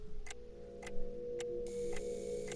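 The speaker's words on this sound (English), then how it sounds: "a ticking clock" A clock in the PS4 game Dreams ticks steadily, with about five evenly spaced clicks roughly half a second apart, heard faintly over a low ambient drone and with no voices.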